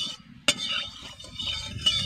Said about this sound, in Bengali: তেলকে আমি চারিদিকে লাগিয়ে নিচ্ছি।